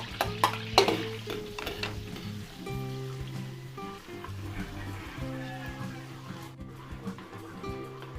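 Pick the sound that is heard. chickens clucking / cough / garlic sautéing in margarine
garlic sautéing in margarine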